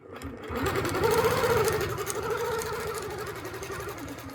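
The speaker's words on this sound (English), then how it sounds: "let's sew this first part of the heart" A sewing machine runs continuously, stitching a quilted heart shape guided by a template. It gives a close, steady motor whir with a fast needle rhythm throughout.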